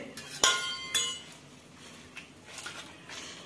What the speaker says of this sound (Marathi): आता हे मॅशरनं मॅश करूया.